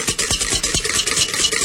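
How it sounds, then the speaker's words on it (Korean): Butter being whisked by hand with a whisk in a mixing bowl, rapid rhythmic metallic scraping strokes about five per second, close and clear with no talk. "버터가 지금 믹싱볼에 들어가 있고요. 네. 거품기 이용해서 이것을 손으로 해서"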